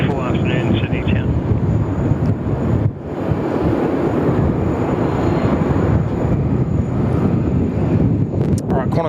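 An airliner passes at Sydney Airport, a broad, heavy engine roar that fills the whole stretch, buffeted by strong wind noise on the microphone.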